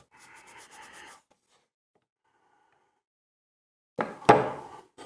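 Masking tape pulled and pressed along wooden floating-shelf boards for a bathroom, a short rubbing scrape early on, then quiet, then a loud close burst of tearing and slapping near the end.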